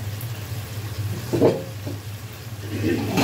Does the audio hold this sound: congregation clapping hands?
no